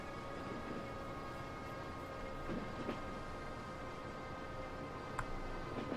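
Trains racing in the Transport Fever video game, with a steady rumbling rail hum and engine drone running throughout, plus a few faint clicks and brief tonal blips, with no talk.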